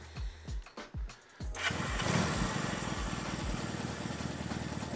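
Vintage Honda motorcycle engine cranking with several rhythmic starter pulses, then catching and settling into a steady, close idle that continues to the end without talk.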